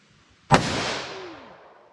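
.357 Magnum snub-nose revolver fired single action: one sharp, loud shot that hits suddenly and then rings and decays over about a second and a half, with no voices.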